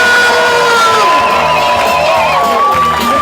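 Wedding guests at an evening reception cheer and whoop loudly for the bride and groom, a dense crowd roar with shrill shouts rising and falling across the whole stretch.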